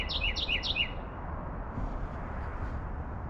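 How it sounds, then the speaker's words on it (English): A bird perched on top of a pole outdoors gives three quick, bright chirps in a row, then falls quiet over steady low background noise. "There's that bird right there on top of that pole right there."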